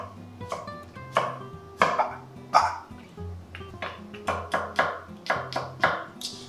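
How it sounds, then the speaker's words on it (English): Knife chopping potatoes into matchstick pieces on a cutting board, a series of crisp close taps that start irregular and settle into a quicker steady rhythm, with quiet background music underneath. "we're just gonna cut down, turning them into like matchstick size"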